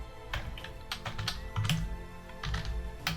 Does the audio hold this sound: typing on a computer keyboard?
yes